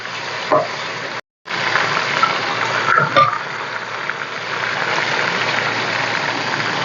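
Chicken frying with garlic, ginger and green chili paste in a pot for Sindhi biryani, a steady close sizzle with brief stirring clatters, cut by a momentary dropout before the frying hiss resumes and continues evenly.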